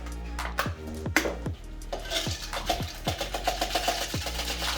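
Ranch seasoning and breadcrumbs are stirred together in a bowl, a utensil knocking and scraping against the sides in a steady series of sharp clinks and taps, close and alone.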